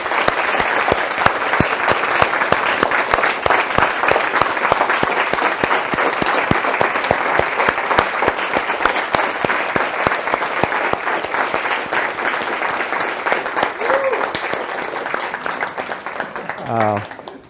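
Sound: audience applause for conference organizers

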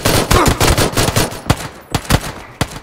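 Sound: micro Uzi gunfire in PlayerUnknown's Battlegrounds video game

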